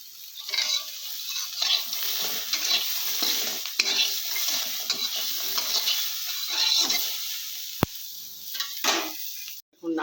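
Green chillies fry in a pan with a steady sizzle, broken by the scrape of stirring and occasional clinks of a utensil against the pan.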